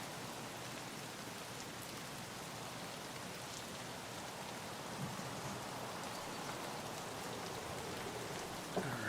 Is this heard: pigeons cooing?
no